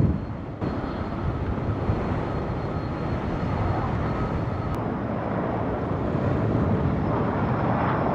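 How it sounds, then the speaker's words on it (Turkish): A loud, continuous roar of propeller firefighting airplanes flying overhead during a wildfire on Kos, dense and rumbling with wind noise, sustained throughout with no talking. "İkinci uçak ve üçüncü uçak."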